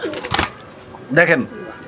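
A pair of Shirting pigeons coos in short, soft bursts close by, with people talking between the calls.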